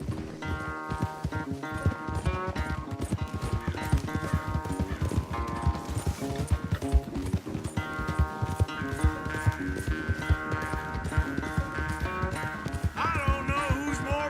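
Horses gallop in Red Dead Redemption 2 during a race, rapid clip-clop hoofbeats pounding steadily over a musical score, with a brief whinny and no speech.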